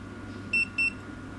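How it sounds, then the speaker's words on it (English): A battery tester gives two short, clear electronic beeps in quick succession, high-pitched and steady, over a quiet background hum. "I just need to wait for the beep."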